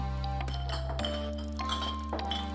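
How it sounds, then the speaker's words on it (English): Bright glassy clinks and pings of bottles from the game Purrfect Date, a few separate taps ringing out over a steady low musical drone, with no talk. "I hear the familiar clinking of bottles shortly after"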